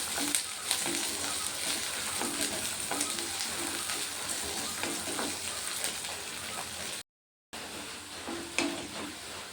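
Garlic sautéing in a pan for lemon pickle gives a steady, close sizzle and crackle of frying that holds for the whole stretch, with a few stirring scrapes and no talk, broken only by one brief silent gap.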